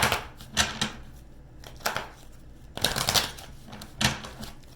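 Tarot cards being shuffled by hand, crisp papery riffling bursts in an irregular rhythm, close and fairly loud with no talking.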